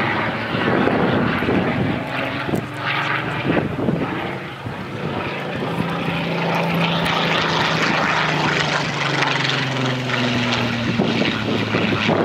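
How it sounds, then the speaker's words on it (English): A Seafire propeller plane roars loudly overhead as it flies a loop, its engine pitch swelling and bending as it climbs and turns, sustained and close the whole time. "loops the aeroplane"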